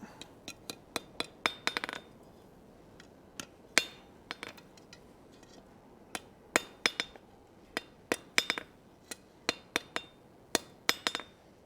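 A hammer rings sharply on a steel tenon being straightened on an anvil, with many bright, clinking strikes in irregular bursts, some quick doubles and triples, heard close and alone.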